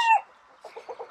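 A chicken in a coop with fresh straw gives a short squawk, followed by a few soft, rapid clucks nearby.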